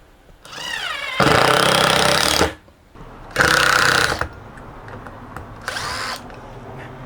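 A power drill whines loudly in three separate bursts, its motor revving up and labouring as it drives into softwood, with short pauses between.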